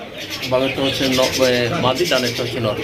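Black magpie pigeons give repeated throaty coos in short rising-and-falling bursts, fairly loud and near, one call following another with little pause.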